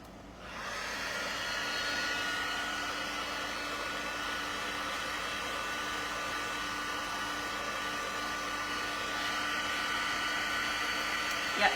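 A hair dryer blows steadily on an acrylic ornament, a close, loud, even whoosh and hum that starts abruptly and holds unchanged for about twelve seconds.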